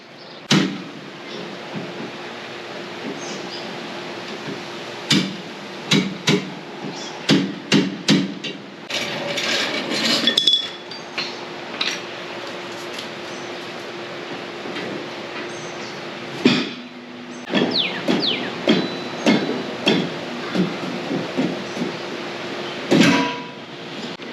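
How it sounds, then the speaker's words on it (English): Bolts being worked out to free the rear Dana 44 axle from a Jeep TJ: a long series of sharp metallic knocks and clanks, close and loud, coming in irregular bursts with short pauses and no talking. "So I'm gonna go ahead and pull the bolts out and get the axle off."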